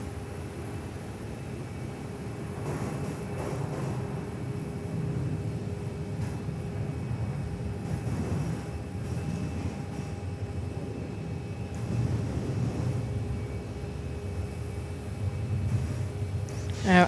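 A Fokker 100 airliner moves off at Perth Airport with a steady, distant jet engine rumble and a low roar that holds evenly and swells slightly toward the end.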